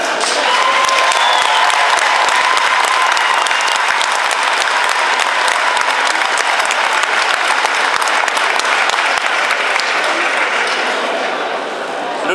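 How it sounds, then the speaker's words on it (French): A large, enthusiastic audience at a Berber New Year evening breaks into dense, sustained applause that stays loud throughout and tapers slightly at the very end. "une assistance nombreuse et enthousiaste venue pour applaudir"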